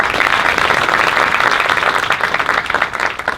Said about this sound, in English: So thank you both for being here today, and a round of applause for Vanessa.